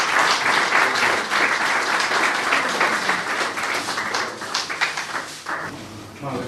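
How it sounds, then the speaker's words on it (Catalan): Sustained crowd applause from an audience, many hands clapping densely and loudly, thinning slightly toward the end. "Jo demanaria un fort aplaudiment"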